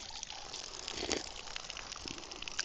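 Water gushes from a park water spigot outdoors at a state park, a steady, fairly faint splashing flow with a slightly stronger surge partway through and no talk.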